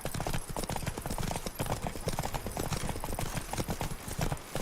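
Horse hooves clip-clop at a gallop in The Witcher 3, a steady loud rhythm of hoofbeats running throughout with dense background noise.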